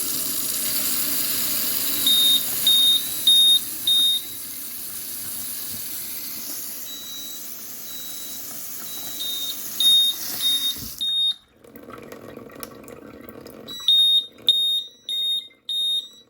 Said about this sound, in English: those dual sirens are really loud